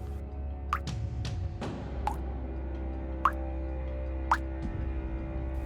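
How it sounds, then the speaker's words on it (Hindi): Water drips fall one at a time in an irregular series of about seven sharp plops, clear and close over a low steady hum, with no voices. "अचानक से एक आवाज आती है पानी की।"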